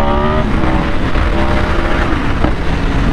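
A Yamaha R1 sport motorcycle engine revving, a loud, continuous high-pitched whine with rising and falling pitch, close and dominant throughout.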